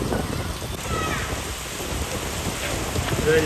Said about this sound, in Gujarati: વરસાદ જબરદસ્ત પડે છે